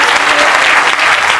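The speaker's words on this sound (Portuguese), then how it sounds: "Um aplauso de Jesus" An audience applauds during a church service, a loud, dense burst of clapping that fills the room from start to finish.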